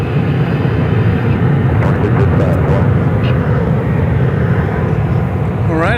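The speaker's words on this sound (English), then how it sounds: "I think we've got going out there a flight to Reno, Nevada, flight 2722, 737-800." A Boeing 737-800 airliner departing on a flight to Reno roars continuously at takeoff, a loud broad jet rumble that holds steady throughout, with a voice talking over it.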